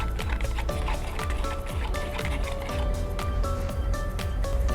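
Diluted cement modifier waterproofing primer being stirred in a container, with rhythmic sloshing and scraping strokes repeating steadily at close range.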